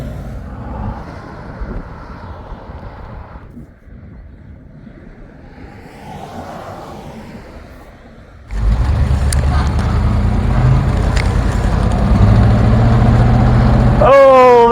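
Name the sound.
Dodge Coupé 6.6-litre hot rod engine while driving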